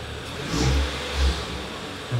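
A BMW 135i with the N55 engine, affected by an ABS sensor fault, revs up twice and then slowly drops off throttle, a close, moderately loud low engine note rising and falling with no talk.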